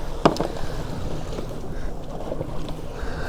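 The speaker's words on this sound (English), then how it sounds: "That wind's still dodgy." Wind blows over a fishing boat at sea, a steady rushing buffet close to the microphone with a brief clack near the start and no voices.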